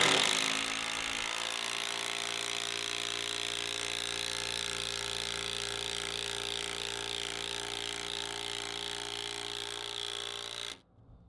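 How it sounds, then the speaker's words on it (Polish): An impact driver strains at full power as it sinks long 14 cm screws into the timber of a wooden carport frame. A dense, continuous ratcheting hammer runs steadily for about ten seconds, loud and close, then stops abruptly. "żeby takie wkręcać wkręty długie, to już trzeba dosyć mocno mieć tą impaktową wkrętarkę"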